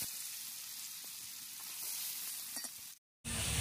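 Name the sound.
potatoes frying in oil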